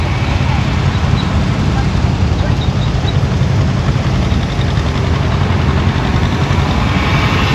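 An old trailer-type one-row tank corn picker runs at a vintage farm machinery show, giving off a loud, steady mechanical drone and low rumble that holds without a break.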